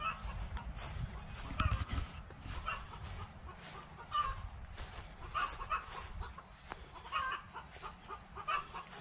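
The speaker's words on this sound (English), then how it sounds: "As you can see, we've got some little chooks and some fluffy chooks." Small and fluffy chickens cluck around a park animal area, with several soft calls and a few louder squawks scattered through steady outdoor background noise.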